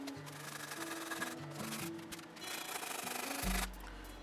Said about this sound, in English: It's just sanding again.